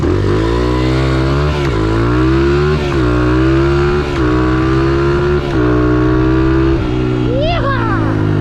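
A motocross motorcycle engine revs loud and close, holding a steady, buzzing drone with several brief dips and surges as the throttle shifts. Voices can be heard under it.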